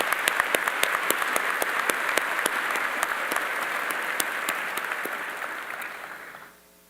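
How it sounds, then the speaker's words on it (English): Audience applause at a military college commissioning ceremony, a dense, steady wash of clapping with sharp individual claps standing out, holding loud for about six seconds before fading quickly. "Please, just a round of applause for all the leadership of the military department."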